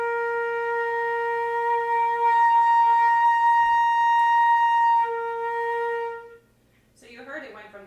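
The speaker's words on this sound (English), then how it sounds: "you heard it went from the first octave and it kind of hovered in the middle, and then it was the second octave and then dropped back down" Flute played as a warm-up exercise, a sustained tone in the first octave that wavers through the middle and jumps up to the second octave before dropping back down, clear and alone, followed by a brief breathy sound.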